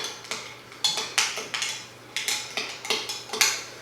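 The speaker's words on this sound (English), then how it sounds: "I'm just going to give that a good stir" A spoon stirs a homemade vanilla spice coffee scrub in a bowl, giving about a dozen crisp clinks and scrapes in an uneven rhythm, close and fairly quiet, with a low steady hum underneath.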